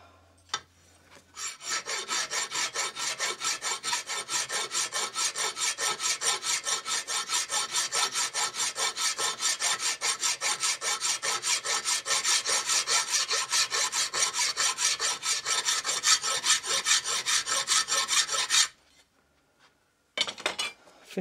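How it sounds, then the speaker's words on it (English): A metal file rasps surplus rivets off the chassis main frame of a beginner's model steam locomotive, in steady rapid back-and-forth strokes, loud and close, continuing for about seventeen seconds before stopping. "just got to file them"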